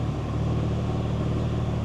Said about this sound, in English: Transmission rattle with the AC on.